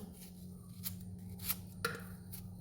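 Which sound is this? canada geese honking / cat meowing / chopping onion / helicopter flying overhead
chopping onion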